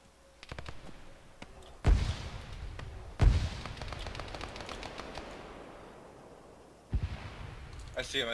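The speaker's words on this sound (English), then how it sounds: "I hear sniper fire from up there" Sniper rifle shots in the Arma video game, three sharp heavy cracks spaced a few seconds apart, each trailing a booming echo, over steady outdoor ambience with a voice speaking faintly.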